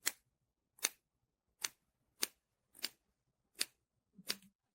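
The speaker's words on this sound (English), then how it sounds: "on the inner curves we need to make small cuts, and we'll do those with the small scissors." Small scissors snipping into fabric seam allowances on inner curves, seven crisp separate cuts at an even pace, close and alone in quiet.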